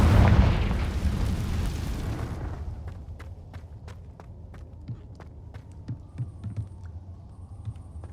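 A fiery Confringo blast spell in the Hogwarts Legacy game explodes as a loud roaring burst that rumbles for about two seconds and fades, followed by quiet footsteps and small clicks.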